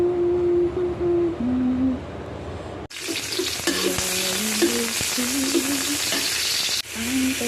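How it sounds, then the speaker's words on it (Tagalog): Chayote, glass noodles and ground pork sautéing in a pan, with a steady sizzle, stirring scrapes and clinks, and a faint background voice or music in the opening seconds. "Ginisang sayote na may sotanghon."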